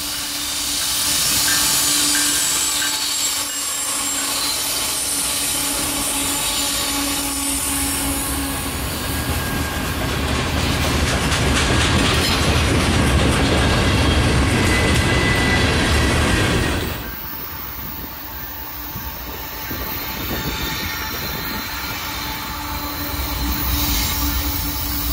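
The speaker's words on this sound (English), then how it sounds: "Here comes the CN eastbound." CN eastbound freight train on the South Bend Sub passing close by, a loud sustained rumble of rolling wagons with wheel squeal and hiss, easing off partway before continuing at a lower level.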